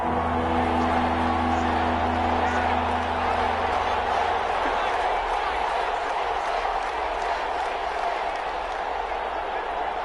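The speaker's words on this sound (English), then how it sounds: "the crowd getting into it as we come up on a big third down" A football stadium crowd at a Packers versus Rams game roars steadily on a big third down, a dense, sustained wash of distant cheering with an announcer's voice running over it.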